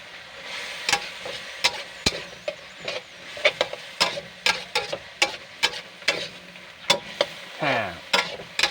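Holy basil being stir-fried in a hot pan with fish sauce, the spatula scraping and tossing in a steady rhythm of sharp clacks over a continuous close sizzle, with no talking.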